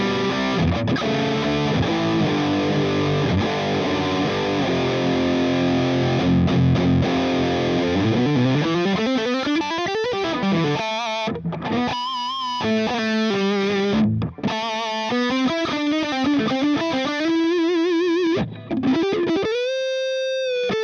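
A Yamaha Pacifica electric guitar plays through heavy distortion, sustained chords and then bending single-note phrases with brief pauses, loud and close, no voices.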